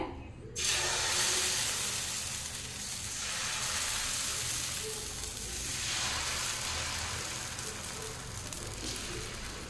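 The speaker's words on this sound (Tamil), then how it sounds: "தவா வச்சுருக்கோங்க சூடாயிட்டுருக்கு இப்போ வந்து நம்ம மேலே எண்ணெய் அப்ளை பண்ணிக்கலாங்க" Kal dosa batter made from broken rava and rice hits a hot oiled tawa with a sudden loud sizzle, then hisses steadily, swelling and easing while it fries. No one speaks.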